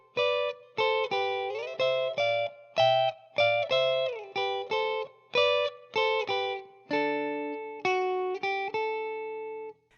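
An electric guitar plays a clean, melodic riff of repeated note groups with slides, steady rhythm, ending on held notes, alone and up close.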